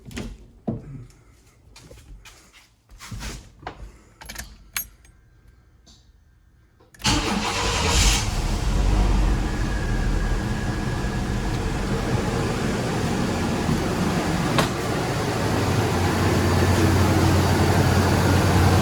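A few clicks and clunks, then a 1993 Chevrolet S10 pickup's V6 engine cranks and catches after a tune-up, settling into a loud, steady idle close by.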